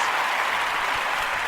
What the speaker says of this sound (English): where's the round of applause thing?